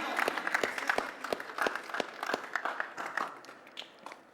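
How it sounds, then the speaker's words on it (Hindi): Sparse, uneven clapping from a small studio audience on a comedy show, with individual claps standing out and some crowd murmur underneath, fairly faint overall. "तालियां."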